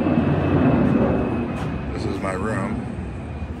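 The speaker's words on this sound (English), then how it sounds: "Planes that fly right over." A steady roar from a jet airplane passing low over a Caribbean resort hotel room in St Maarten fills the background, with a person talking over it.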